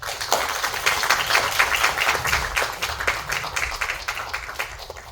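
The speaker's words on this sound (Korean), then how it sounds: "나오실 때 박수로 환영해 주시면 좋겠습니다" Audience at a Korean university semester-opening chapel service applauds to welcome a pastor to the pulpit, steady dense clapping filling the room for several seconds, fairly loud and continuous.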